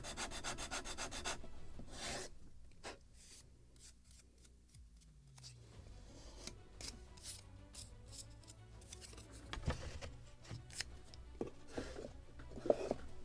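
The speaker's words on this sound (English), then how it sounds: "A small piece of sandpaper." Small piece of sandpaper rubbing wood on a model ship kit of the gunboat Philadelphia, soft scratchy strokes in an irregular rhythm, faint and close with occasional louder scrapes.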